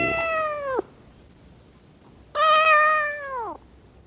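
A cat gives two long, drawn-out meows, close and clear, separated by a quiet pause of about a second and a half.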